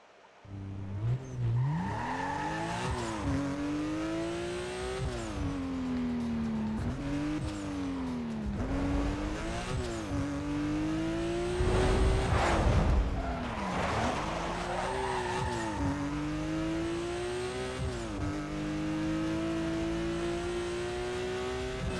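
A Porsche racing in Need for Speed Most Wanted, its engine revving loudly and steadily through repeated gear shifts and accelerations, with tire skids and squeals in the middle, no talk.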